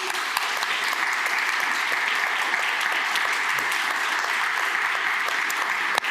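Steady, loud applause from an audience welcoming a speaker at a talk on cartooning in Southwestern Ontario, continuous clapping filling the room without pause.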